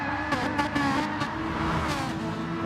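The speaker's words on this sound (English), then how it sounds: "See people doing a bit of burnouts here. Trying to warm up those rear tyres for the start." Sim racing cars doing burnouts on the grid to warm their rear tyres, a continuous loud engine roar at high revs with brief tyre squeal bursts layered on top.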